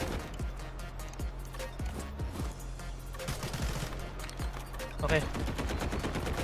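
Gunfire in the video game Delta Force: Hawk Ops, repeated sharp shots in quick irregular bursts, close and punchy, with someone talking briefly over the shooting.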